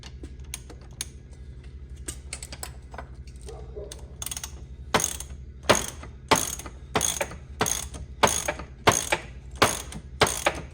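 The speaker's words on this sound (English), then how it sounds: "I am probably gonna just use a ratchet" A ratchet wrench turning a fastener during a power-to-manual steering rack conversion, first a few light scattered clicks, then a steady series of about nine loud, close ratcheting strokes in even rhythm.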